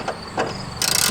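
A ratchet clicks while loosening the E14 reverse Torx bolts on a Mercedes Sprinter driver's seat base, a few close mechanical ticks followed by a quick burst of rapid ratcheting.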